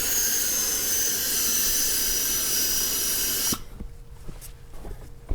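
A facial steamer blowing steam, a loud, even hiss lasting about three and a half seconds that cuts off abruptly, leaving quiet room tone with a few faint clicks.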